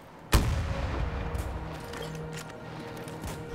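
A single sharp, loud sniper rifle shot cracks out near the start of a Battlefield 2042 match, aimed at a VTOL aircraft. It leaves a long rumbling tail with mechanical battlefield noise beneath.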